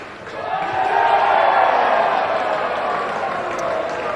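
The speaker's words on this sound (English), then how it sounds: "Premature cheering," Cricket crowd cheering prematurely at a West Indies versus Ireland match, a broad swelling roar of many voices rising within a second and holding, distant stadium sound, no commentary over it.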